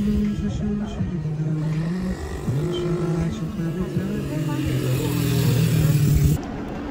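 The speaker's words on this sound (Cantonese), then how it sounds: "竟然有人玩電單車喎，好勁喎，瞓晒彎咁喎" A motorcycle is ridden hard around a go-kart track in Shenzhen, leaning low through the bends. Its engine drones steadily at moderate distance, rising and dipping in pitch as it works through the corners, until it cuts off near the end.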